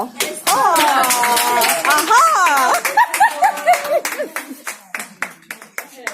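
Clapping at a mother-and-child charity foundation gathering in Cameroon. Voices sound over the opening seconds, then close, rhythmic hand claps take over and gradually thin out.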